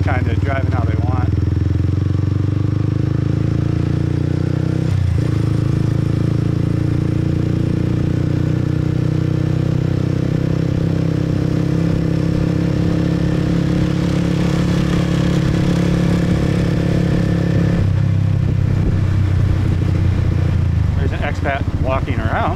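Motorcycles stream through busy Saigon traffic, a constant roar of mid-pitched engines and passing scooters close by, with wind buffeting and a voice talking over the din.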